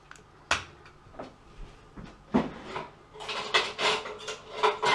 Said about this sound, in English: Just need to lightly beat the eggs